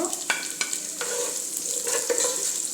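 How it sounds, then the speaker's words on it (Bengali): Chopped onions hit hot oil in a pan for vegetable egg fried rice, giving a steady loud sizzle with scattered scraping stir strokes and no talking. "এখন আমি পেঁয়াজ দিয়ে দিব"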